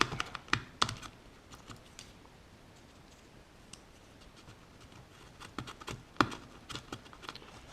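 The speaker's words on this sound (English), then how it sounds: "use my fiberglass pencil, give it a bit of a clean up" Short scratchy scrubbing bursts from a fiberglass pencil cleaning corroded contacts on a Maxcom 7e, with quick ticking contacts, clustered near the start and again later, fairly close and quiet, no voices.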